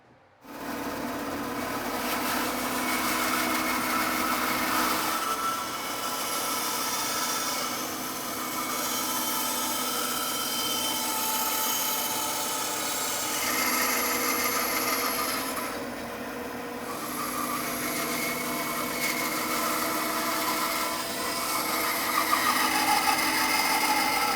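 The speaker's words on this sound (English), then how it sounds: "let me cut it out now with the bandsaw" A bandsaw cuts a curved seat scoop into a wooden counter-height chair seat, a steady whining drone that runs continuously and close for the whole stretch, with slight shifts in pitch as the blade follows the line.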